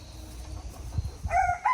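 A broody hen with four newly hatched chicks, soft low clucks from the hen followed by a couple of thin, high chick peeps close by, brief and fairly quiet.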